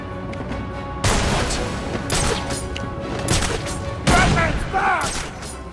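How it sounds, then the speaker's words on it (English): Bursts of gunfire from the Batman: Arkham City video game crack out in clustered volleys, loud and close, with heavy booming impacts over a constant background rumble. "still getting shot at"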